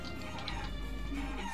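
A short burst of chicken clucking from a character in chicken form in the Guacamelee video game, quick repeated clucks over a constant game music bed.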